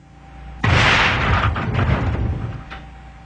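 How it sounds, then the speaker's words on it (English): A deliberately weakened liquefied gas tank fails in a BLEVE explosion, a sudden loud boom with a rushing roar of fireball and debris that fades over about two seconds, with a smaller pop near the end. "This tank has been deliberately weakened to demonstrate how quickly and without warning a tank can fail."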